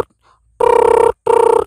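A man imitates a telephone bell ringing with his voice, producing two loud, buzzing trill-like rings, the first longer than the second, separated by a short gap.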